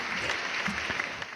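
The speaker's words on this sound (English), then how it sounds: "Round of applause." A brief burst of applause in a podcast studio, moderately faint and steady, with a few small hands clapping.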